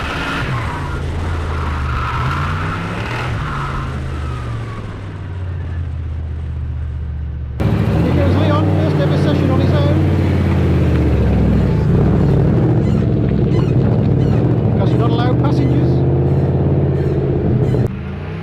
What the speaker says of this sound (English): You're just using full throttle to get the boost and get the spin started, and then you just back off and let it roll